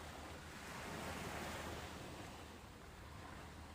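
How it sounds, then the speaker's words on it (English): Ocean waves wash onto a beach below cliffs in a soft, continuous surf that swells gently and then recedes, faint and distant, with some wind and no voices. "You descend slowly, the sound of waves growing clearer with every step."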